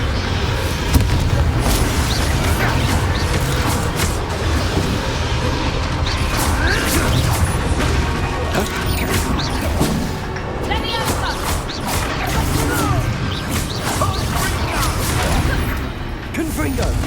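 Repeated fire-spell blasts in Hogwarts Legacy, Confringo bursts booming and crackling through a dense, loud game battle with mechanical clatter, steady throughout with a voice speaking now and then.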